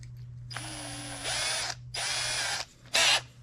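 A drill press bores into a carburetor part with a larger bit, the motor whirring in three short bursts with brief pauses between, close and fairly quiet over a low steady hum.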